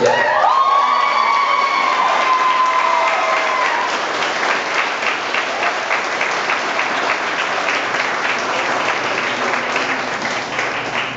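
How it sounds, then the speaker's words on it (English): Loud, sustained applause with cheering from a large audience at a talk on employing people with disabilities, dense clapping filling the room as voices whoop and cheer over it. "I knew that Mickey would get some big applause."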